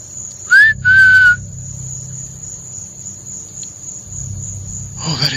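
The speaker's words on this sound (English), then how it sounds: "They just whistled." Two clear whistles come from unseen people in dark woods at night, a short high note followed by a longer held one, over constant crickets and a high insect drone.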